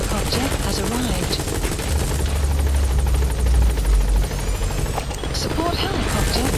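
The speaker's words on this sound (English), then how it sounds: "Support helicopter has arrived." A support helicopter's loud, pulsing rotor thrum dominates in the video game Metal Gear Solid V, with bursts of distant gunfire and game-like effects mixed in.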